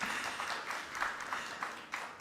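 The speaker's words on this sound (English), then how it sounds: "A round of applause." Faint, distant applause from an audience at a finance lab launch event, a steady soft patter of many hands lasting a couple of seconds.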